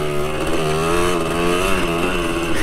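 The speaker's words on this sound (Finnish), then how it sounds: "Tää on parasta ajaa isoa rataa pikkumopolla." An old Suzuki DS 80 moped engine buzzes steadily at high revs while being ridden on a track, a loud, close, continuous two-stroke drone with slight pitch wobble.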